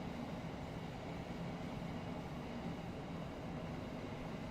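A Thameslink Class 700 electric train in a train simulator game hums and rumbles along the rails at a steady pace, a low continuous drone with no voices over it.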